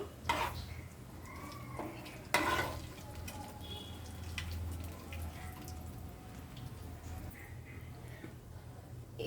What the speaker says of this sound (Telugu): బిర్యానీ ఆకులు, లవంగాలు, చెక్క, ఇలాంచి వేసి కలుపుకోవాలి.